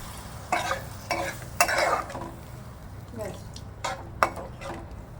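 Masala for a Bengali-style katla fish curry is stirred and fried in a pan, with a handful of distinct scraping strokes over a soft sizzle, close by.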